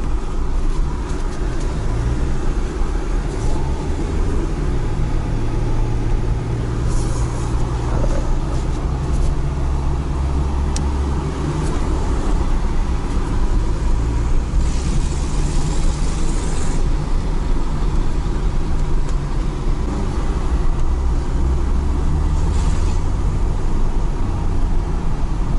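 Opel Corsa A engine running after standing for 16 years, a steady low rumble that holds loud and continuous throughout with no voices.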